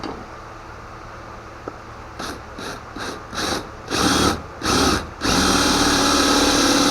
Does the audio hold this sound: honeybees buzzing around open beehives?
no